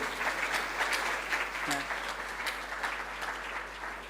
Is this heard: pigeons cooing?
no